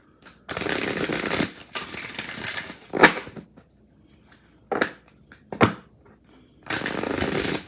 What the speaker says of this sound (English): I need like 2 good shuffles.